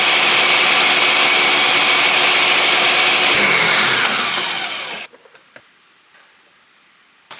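A blender whirs loudly while mixing a salted peanut butter Formula 1 shake, a dense, close, steady roar for about five seconds before it winds down and stops, followed by a few faint clinks.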